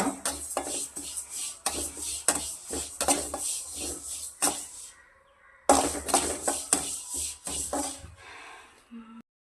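A spoon scrapes and stirs poppy seeds roasting in a pan, with rhythmic rasping strokes and light metallic clinks, close and fairly loud, pausing briefly before resuming.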